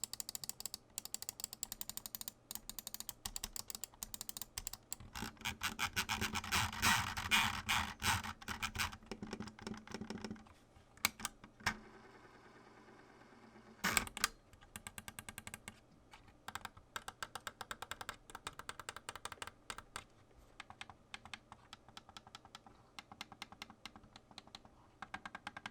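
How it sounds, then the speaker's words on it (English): Button clicks from a Logitech G604 wireless gaming mouse, heard as a long run of dense, close, crisp clicking with brief pauses, alone without talk. "All the buttons have really nice smooth clicky sound to them."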